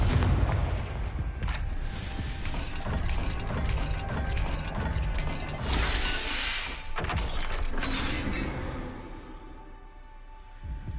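A Confringo fire spell explodes in the video game Hogwarts Legacy with a rumbling boom and crackling fiery bursts, followed by mechanical clanking and a second swell of noise that fades out.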